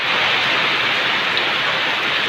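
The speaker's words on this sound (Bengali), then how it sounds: "আরা বৃষ্টি জল হচ্ছে ঝমঝম করে।" Heavy rain pours down in a dense, steady roar, loud and close, with no break and no voices.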